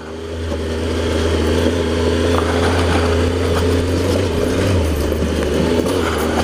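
Triumph Explorer XCa adventure motorcycle climbing a steep off-road byway, its engine holding a steady loud drone under load with a brief shift in pitch partway through, close and constant.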